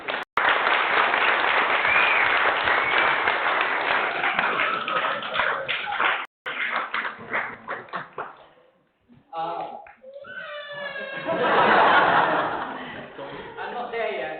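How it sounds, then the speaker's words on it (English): Wedding guests at Gosfield Hall give a round of applause for Joseph, a dense burst of clapping that fades out, then a second wave of clapping and cheering swells up near the end. "A round of applause for Joseph."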